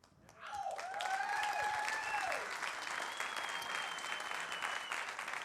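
A pageant audience at the Mrs United States Pageant 2015 gives sustained, loud applause for the top five, with a few whoops and whistles riding over the steady clapping.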